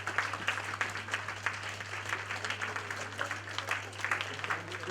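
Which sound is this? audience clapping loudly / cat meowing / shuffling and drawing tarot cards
audience clapping loudly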